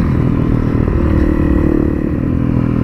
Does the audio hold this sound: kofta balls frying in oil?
no